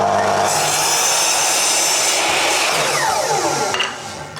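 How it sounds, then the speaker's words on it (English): A miter saw set to a 30-degree angle cuts through wood with a loud, dense roar that holds steady, then the blade winds down with a falling whine near the end. "So we're going to set this miter saw to 30."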